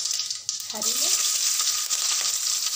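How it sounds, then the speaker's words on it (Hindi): Dhokla pieces fry in a pan with mustard seeds and green chillies, a continuous bright sizzle with a brief clatter at the start and a faint tonal squeak in the middle. "तो चलिए अब हम इसको फ्राई करेंगे।"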